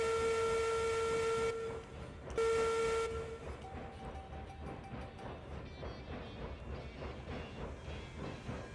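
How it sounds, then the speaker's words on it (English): A steam locomotive's whistle in the train game Railroads Online sounds in two loud, sustained blasts with a brief break between them, then gives way to rhythmic chuffing and rolling rail noise. "I hear you when you hit the whistle"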